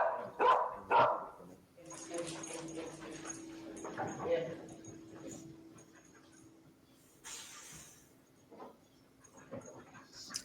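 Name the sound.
dog whimpering and barking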